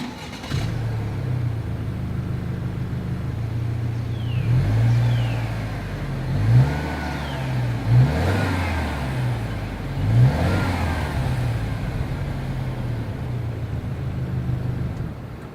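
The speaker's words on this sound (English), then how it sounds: "As always, here is that exhaust clip." A 2022 Subaru Legacy XT with dual stainless steel exhaust outlets idles with a steady low rumble, then revs sharply four times in a row, each throttle blip rising and falling back to idle, close by with no talk.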